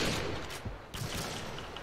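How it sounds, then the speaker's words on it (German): Sniper gunfire in Modern Warfare 2 on the Rust map, a dense burst of loud shots and crackling blasts at the start, a short dip, then another sharp report with ongoing rumbling battle noise. "Manchmal schieße ich einfach random."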